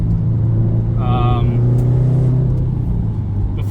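Loud, steady engine drone from a tuned Subaru STi pulling hard through first and second gear, a continuous low rumble filling the whole clip with a brief whine midway.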